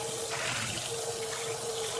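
Steady running water pours from a tap to rinse a freshly cleaned kitchen surface, a constant hissing splash at moderate volume with no voices.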